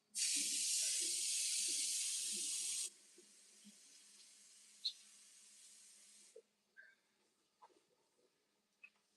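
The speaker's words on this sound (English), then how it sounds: "So I'm putting some water here in my peas pot because I'm going to be pressuring the peas." Tap water runs hard into a pot for pressure-cooking peas in a home kitchen, a loud steady gush for about three seconds, then a softer trickle before stopping, followed by a few light clinks of cookware.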